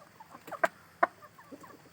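Free-range jungle fowl, a flock of about five or six months old, giving soft scattered clucks, with two louder clucks standing out near the middle, outdoors and fairly close.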